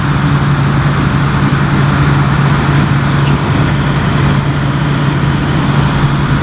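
A New Holland 8060 TX32 combine harvester working in a field gives a loud, constant mechanical drone with a steady low hum, unbroken for several seconds with no voices.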